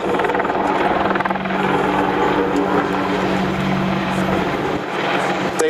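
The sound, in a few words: Boeing AH-64 Apache helicopter flying air show display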